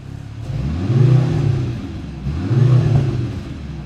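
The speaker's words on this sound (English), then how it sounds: "now let's do a few revs in race." A Mercedes-AMG C63 V8 in Race mode revs hard twice in a row, each loud, throaty roar rising and falling back to a rumbling idle, recorded up close.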